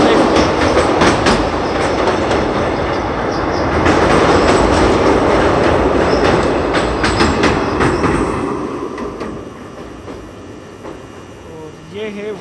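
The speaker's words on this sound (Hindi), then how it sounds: "last ICF run of 11040 Gondia Kolhapur Maharashtra express" Maharashtra Express, an ICF-coach passenger train from Gondia to Kolhapur, rolls on rails with loud, close rumbling and rhythmic clickety-clack, fading somewhat toward the end with a brief wheel squeal.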